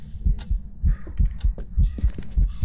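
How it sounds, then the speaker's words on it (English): Ghost footsteps on the floor upstairs in the horror video game Phasmophobia, a run of heavy, muffled thuds in an irregular walking rhythm, low and booming with faint clicks, no talking over them. "so you can hear the footsteps upstairs"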